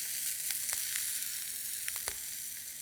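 Yellow peppers and garlic sautéing quickly in a pan, a faint steady sizzle with a few light scrapes and taps as they are tossed, no voices.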